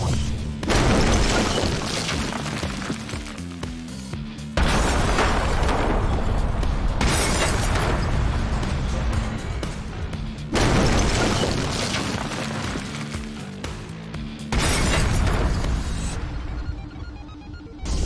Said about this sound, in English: This was an explosion. This wasn't a fireball.